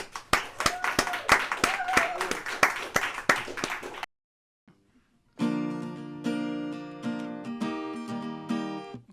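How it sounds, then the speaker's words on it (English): A club audience claps and applauds for a performer after a first-try song, a dense burst of many hands for about four seconds, then a short silence before loud amplified guitar music begins. "Everybody, let's give him a round of applause right there."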